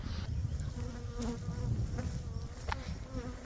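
Honeybees swarming inside a small swarm trap box, a steady close insect hum with a low droning body that holds evenly throughout, with no voices.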